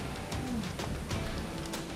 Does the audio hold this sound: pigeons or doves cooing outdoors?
yes